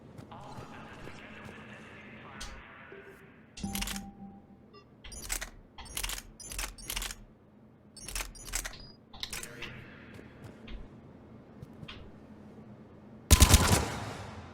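Guns fired at a shooting range in the video game Mass Effect 3, a series of sharp, loud broadband bursts in irregular clusters, ending in a dense rapid volley.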